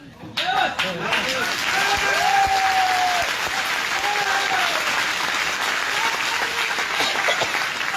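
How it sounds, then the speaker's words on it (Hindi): Audience at a network marketing seminar applauds with hands raised, a dense, steady clapping wash lasting throughout, with voices and shouts rising over it at moments. "ताली बजाना तो दोनों हाथ ऊपर करके बजाना, नहीं तो मत बजा"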